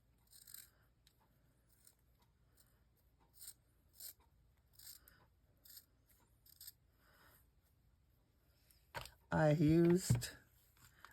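Scissors cut paper for tab binding in a papercraft project, making soft, faint snips and rasping strokes in an irregular series at close range. Someone speaks briefly near the end.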